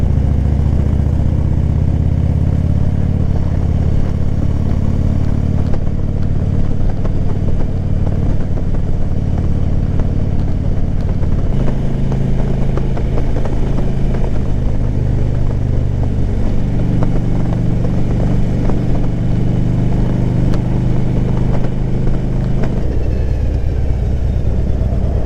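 A motorcycle engine, an Ultra model on its first ride, rumbles steadily and close up for the whole stretch, its low drone shifting pitch a few times as the rider changes speed, with no talking over it.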